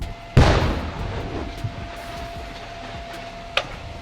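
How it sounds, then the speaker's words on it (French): A gas bottle explodes near a wildfire at Lège-Cap-Ferret, caught during a live TV broadcast: one sharp, loud boom near the start that rumbles off, then a smaller crack later against steady background noise. "une bouteille de gaz très probablement qui vient d'exploser"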